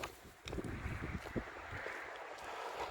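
Gusty wind rumbles and buffets the microphone outdoors at abandoned former military barracks, with a steady rushing noise underneath.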